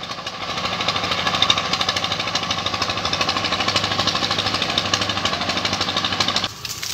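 A tiller improvised from a converted tractor runs steadily and loudly nearby, a harsh, rapid engine clatter that holds for about six seconds before cutting abruptly near the end.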